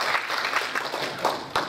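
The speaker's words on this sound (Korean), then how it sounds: "박수로 다시 부탁드립니다" Audience members at a Korean dry-cleaners' association wet-cleaning seminar give a warm round of applause. The clapping is continuous and fairly close, with a few sharper claps standing out near the end.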